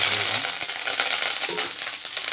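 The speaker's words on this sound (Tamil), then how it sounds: "முதல்ல கடுகு கடுகை போட்டுக்கிடுவோம் அதுக்கப்புறம் கருவேப்பிலை" Mustard seeds and curry leaves sizzle loudly in hot oil, a dense, continuous close crackle with rapid popping and spitting throughout.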